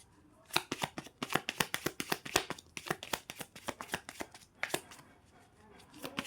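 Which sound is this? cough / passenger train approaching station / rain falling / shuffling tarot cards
shuffling tarot cards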